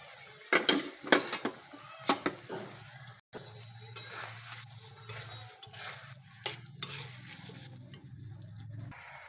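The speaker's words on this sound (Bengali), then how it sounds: "দিয়ে দিচ্ছি ভাজা আলু" Fried potatoes stirred into a simmering egg and brinjal curry, with a string of sharp scraping clicks from a spoon against the pan early on, then a steady low bubbling and faint sizzle close by.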